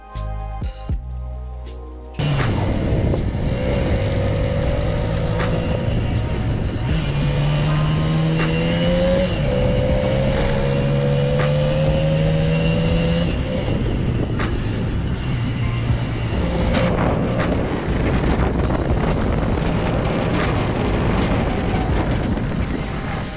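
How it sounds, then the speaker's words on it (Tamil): A motorbike ridden along a road around Kodaikanal, its engine note climbing and dropping through gear changes under heavy rushing wind, loud and continuous after a brief quieter start. "இந்த பைக்கோட ரியலோட அந்த சவுண்ட் வந்து நீங்கள் ஃபீல் பண்ண முடியும்"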